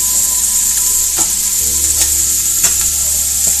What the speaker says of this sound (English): hopefully the sizzle won't be annoyingly loud, but probably will be